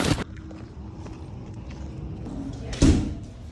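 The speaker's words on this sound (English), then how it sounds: "find the little latchy lever, pull up, and then roll it" Car rear seats are folded down by pulling a latch lever, giving a sharp clunk at the start, a quiet rustling stretch, then a second heavy thud of the seatback settling near the end, close by.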